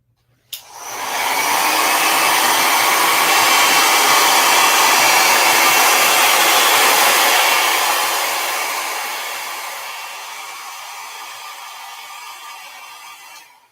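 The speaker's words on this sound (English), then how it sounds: "I just got a hair dryer." A hair dryer switches on and blows with a loud, steady whooshing whir nearby, then its airflow gradually eases off before cutting out.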